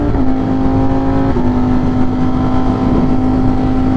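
A 200 hp vehicle accelerating hard at full throttle from cruising speed, with a loud, steady engine drone whose pitch climbs continuously, heard close up and alone throughout.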